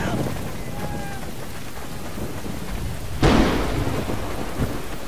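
A thunderstorm in the medieval combat game Chivalry: Medieval Warfare, with steady rain hissing until a sharp nearby thunderclap bursts out and rolls into a loud, lingering rumble.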